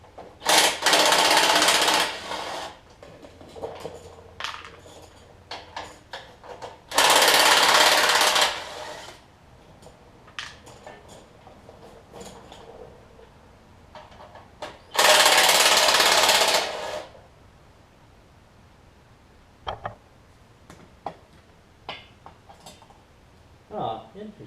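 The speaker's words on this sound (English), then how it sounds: "we're going to take the 8mm bolts off of this thing" Power tool, likely an impact driver, removing 8mm bolts from a Generac 7500EXL portable generator with a faulty low oil sensor, in three loud sustained whirring bursts of about two seconds each, separated by quieter handling clatter.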